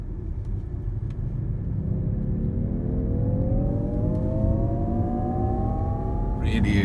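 A Jaguar I-Pace electric car accelerates hard with a rising synthetic whine climbing steadily in pitch over heavy road and wind rumble, heard from inside the cabin and continuous throughout.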